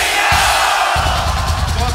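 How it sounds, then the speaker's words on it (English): A concert crowd at a show roars and chants the band's name in loud rhythmic bursts, a dense wall of many voices filling the space. "I think that is the fucking loudest crowd I have ever fucking heard!"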